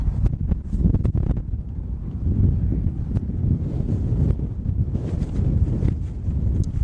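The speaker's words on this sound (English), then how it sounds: "A little windy now, just a minute." Gusty wind buffets a microphone high up on a tower, a heavy low rumble that surges and eases continuously with no other sounds on top.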